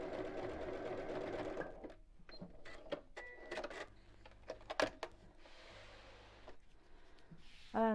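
A sewing machine zigzag-stitches straight over the edge of fabric and back again while a messenger bag is being made, with a steady run of close whirring stitches at the start, then short bursts and clicks of handling.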